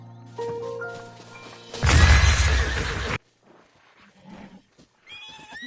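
A horse in Breath of the Wild gives a loud, close neigh and whinny, followed by a brief crash of hooves, then quiet with faint clip-clop and a short higher call at the end.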